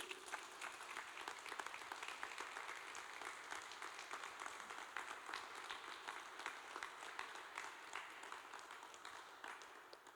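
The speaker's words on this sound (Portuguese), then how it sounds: "Uma salva de palmas para Jesus." A church congregation applauds during a Sunday service, dense continuous clapping from many people, fairly distant and soft, sustained for several seconds without speech.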